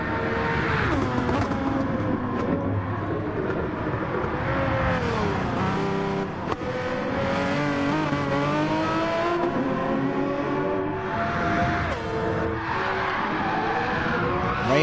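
Race cars lap the Trial Mountain circuit in Gran Turismo 4, engines revving and shifting through rising and falling pitches, with brief tire squeals and slides, loud and continuous with no talk.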